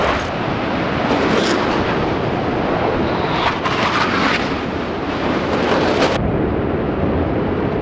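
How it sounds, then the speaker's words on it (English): An F/A-18 Hornet jet flies over a city street during an ANZAC Light Horse ride in Brisbane, a loud, continuous roar with wind-buffeted rumble swelling and holding across the clip. "We're just about to have a hornet go over, so it could be a bit noisy."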